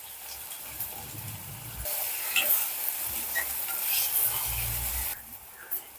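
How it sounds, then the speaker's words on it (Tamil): Salted tomatoes sautéing in oil for a dried seer fish curry, with a soft, continuous sizzle and gentle stirring strokes, fairly quiet and close. "இப்போ தக்காளி எல்லாம் நல்லா வதங்கி மசிஞ்சு வந்துருச்சு."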